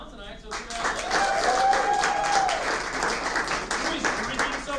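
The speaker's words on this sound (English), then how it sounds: "Big round of applause for Snowfish for putting this on tonight." Audience applause at a comedy show in a restaurant, a steady wash of clapping that swells and holds for a few seconds, with voices and a whistle-like tone mixed in.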